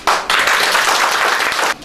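An audience at a Christmas tree ceremony for widows and orphans in Cameroon bursts into loud, close applause, a thick burst of clapping that starts abruptly and cuts off near the end.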